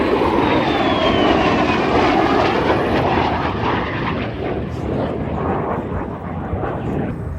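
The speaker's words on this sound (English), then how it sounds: "Mesdames et messieurs, maintenant, de l'Ouest, voici le MiG-17." A MiG-17F jet flying at an airshow in Gatineau-Ottawa: a loud, continuous roaring engine rush that holds steady and slowly shifts as the fighter passes, with no speech over it.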